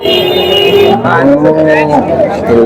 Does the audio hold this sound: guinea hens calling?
no